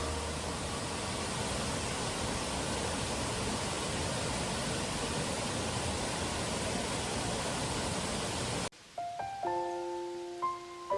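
Shiramizu waterfall in Oita, Kyushu, a registered national monument, pours as a steady, dense broadband roar filling most of the moment, then cuts abruptly to quiet with a few sustained tonal notes near the end.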